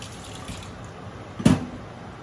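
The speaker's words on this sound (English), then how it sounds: "let me give my hands a quick rinse" Hands are rinsed under a running kitchen tap. A faint hiss of flowing water builds into a short splash near the end.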